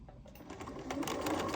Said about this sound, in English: I will sew along the edge of the cardboard.